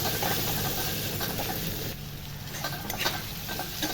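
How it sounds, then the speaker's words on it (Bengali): Tomatoes and onions fry in a pan for a Bengali chicken and potato curry, giving a dense sizzle with scraping stirring strokes, briefly dropping partway through and then continuing, close-up and with no talking. "এইভাবে একটু ভুনিয়ে নেবো, এইভাবে লেড়ে লেড়ে ভালো করে"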